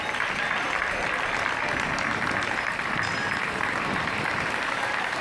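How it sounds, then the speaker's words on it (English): Members of the Spanish delegation applaud at a Gibraltar treaty ceremony with a steady, even round of clapping that holds for the whole stretch. "And a round of applause from the Spanish delegation as well."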